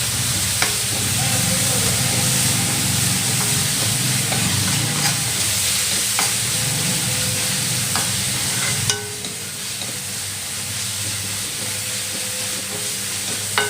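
Chopped spring onion greens with a little salt sizzle and hiss steadily as they sauté in a pan, with occasional stirring scrapes. The frying sound is close and continuous, with no talking.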